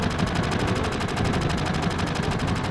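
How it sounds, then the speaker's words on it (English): Rapid gunfire in Final Fantasy VII as Barrett shoots at fireworks, a loud continuous stream of evenly spaced shots lasting a few seconds. "Then Barrett gets mad and shoots at the fireworks."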